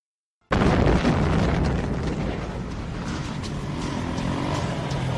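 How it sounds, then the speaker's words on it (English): A big explosion opens the Cyborg Cop 3 film, bursting in loud and broadband after a brief silence and then sustaining as a dense, rumbling roar for several seconds. "I just remember it starts with a big explosion,"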